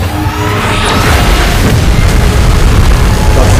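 Beam blast explosion in a video game: a loud, booming roar that swells and holds for several seconds, a continuous rumbling detonation with no voices.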